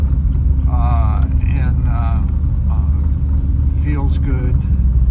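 A 1958 Ford Thunderbird engine idles with a steady low rumble throughout, while a person talks over it.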